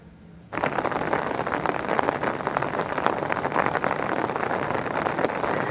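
Steady rain pours down on a cold, wet morning in Mombasa, Kenya, starting abruptly after a quiet half second and then hissing densely and evenly throughout with no voices.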